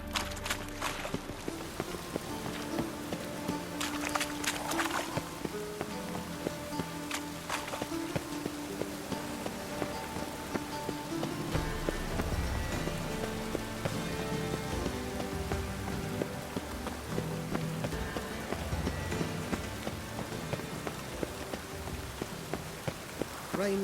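Light rain falling in a medieval fantasy town in The Witcher 3: Wild Hunt, a constant soft patter on surfaces with footsteps and occasional faint voices mixed in.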